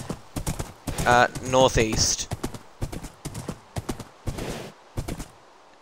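A horse's hooves clip-clop steadily in a video game, loud and close in an even rhythm, while players talk over voice chat.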